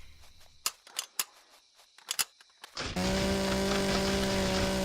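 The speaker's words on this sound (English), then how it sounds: "Alright, we got ourselves a chainsaw." A chainsaw in the video game Empyrion Galactic Survival starts after a few sharp clicks and taps, then runs as a loud, steady buzzing whine as it cuts wood, holding constant to the end.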